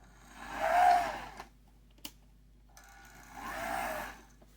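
An Athearn bluebox U25B model locomotive runs forward and then in reverse, its wheels giving a whirring, grinding hum that swells and fades in two bursts, with a small click between them.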